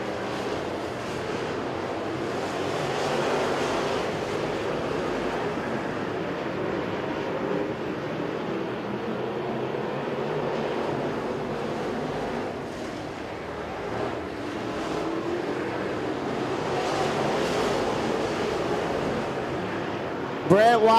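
Crate late model race cars roar around Crossville Speedway during a feature race. A distant, continuous engine drone rises and falls as the pack circulates, heard under a steady stream of announcer commentary.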